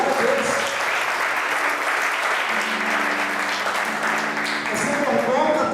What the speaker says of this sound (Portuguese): Em nome de Jesus, aplauda o Senhor por isso, meu irmão.